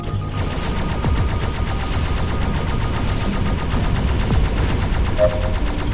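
Rapid, continuous ship-mounted gunfire from a space combat game played in VR on PS4, dense and steady across the whole stretch with no talk.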